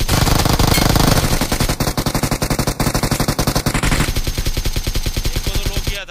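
Rapid automatic gunfire from an AKM rifle in a mobile shooter match, loud and close, with sustained bursts of rhythmic shots running almost continuously and a faster, denser volley toward the end.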